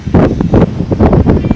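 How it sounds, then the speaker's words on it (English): Strong wind outdoors buffets the microphone in loud, rough gusts that rise and fall several times, with no talking. "Oh my gosh, everything is blowing. Whoa, this wind is windy."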